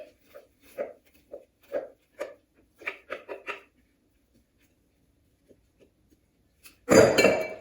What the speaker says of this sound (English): using the back of your spoon to firmly press it down into the tray